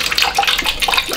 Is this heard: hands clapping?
no